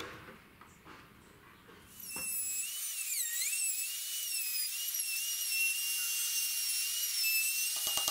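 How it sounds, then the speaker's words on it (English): Router cutting a rebate into melamine, starting after a few handling knocks and settling into a loud, steady high-pitched whine with slight pitch wobbles as the bit bites. "I'm going to use the router to create a rebate or a recess."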